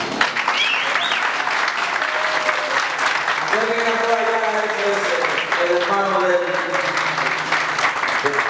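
A standing audience applauds for a maestro at an event in a geriatric centre in Jarabacoa, with steady, dense clapping throughout and voices and faint musical tones mixed in beneath.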